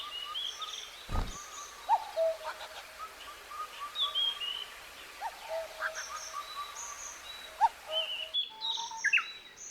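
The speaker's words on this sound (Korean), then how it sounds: "뻐꾸기를 먹여 살리는 것은 딱새입니다." Cuckoo and Daurian redstart song in the forest around Daeheungsa temple on Duryunsan mountain: repeated clear chirps and whistled phrases spread across the whole stretch, moderately near, with one brief low thump early on.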